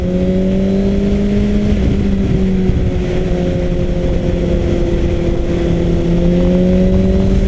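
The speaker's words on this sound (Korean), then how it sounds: "배기음이 너무 좋네요." Suzuki GSX-S750 naked motorcycle exhaust while riding, a loud, steady engine note that rises and falls slightly in pitch, continuous and close with wind rush underneath and no talk.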